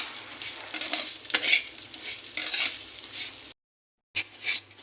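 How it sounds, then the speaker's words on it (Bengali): Vermicelli is stirred and fried in a pan, a quiet continuous sizzle with scraping strokes of a utensil, cut off briefly by a short silence before the stirring resumes. "এটাকে আমি ভাজবো খানিকক্ষণ, যতক্ষণ না একটু রংটা বদলায়।"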